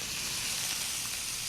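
Veal chops for a Florentine dish sizzling in a hot pan just after being flipped, a dense, steady, loud hiss filling the moment without a break.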